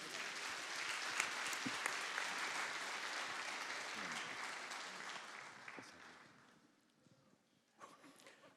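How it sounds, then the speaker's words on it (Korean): A church congregation at a Sunday worship service breaks into warm applause, sustained and fairly full for several seconds. The clapping then thins out and fades, leaving a few scattered claps and quieter room noise. "뜨거운 박수로 격려해 주세요."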